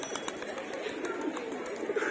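Pigeons in a loft coo softly and repeatedly in a low, rolling murmur close by, with faint chirps and rustling mixed in.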